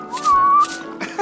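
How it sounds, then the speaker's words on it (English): A cartoon character whistles a short, clear melodic phrase, close and loud, with rising and falling pitched notes over about a second. "And you can whistle to show you're happy."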